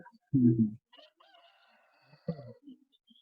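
A few short clucking calls from chickens with chicks nearby, close by with quiet gaps between, one burst at the start and another near the end.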